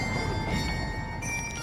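Bells ring out in Heidelberg, Germany, a sustained chiming of steady bright tones, with a change in pitch partway through, over a dense, rumbling street background.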